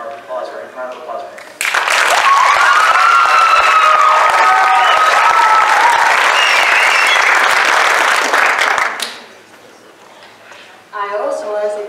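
Loud, sustained applause from the audience at a high school band concert, roughly seven seconds of dense clapping that swells in abruptly and fades, with a person speaking before and after it.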